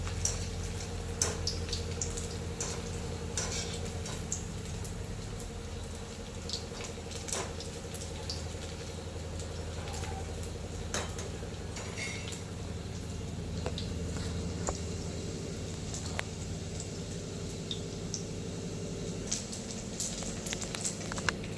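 Leftover rice pakoras deep frying in hot oil give a steady, dense sizzle with fine bubbling crackle and scattered pops, continuous and close throughout.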